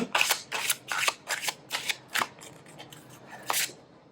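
Oracle cards from the Noé deck are shuffled and drawn, giving a run of crisp, close papery flicks and riffles in quick bursts, then a pause and one last snap.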